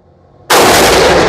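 A Remington 1911 R1 Limited pistol chambered in .40 caliber fires at an outdoor range: a single sharp, very loud shot bursts out of near silence and rings on without a break.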